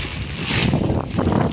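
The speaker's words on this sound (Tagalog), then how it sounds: "lakas ng hangin" Strong typhoon wind roars against the microphone in a short, loud, buffeting burst, with rough rumbling gusts and no speech.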